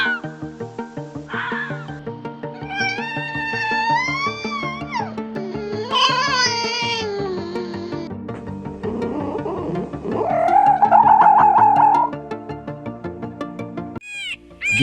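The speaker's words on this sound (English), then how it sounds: "These are the sounds the Russian fox makes." Russian fox calling with a series of high, wavering yelps and screeching cries, some drawn-out and whining, others short, heard close with brief pauses between calls.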